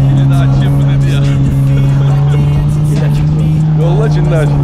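An off-road car labours on a highland plateau trail, its engine droning steadily and loudly throughout beneath excited voices of people talking and shouting.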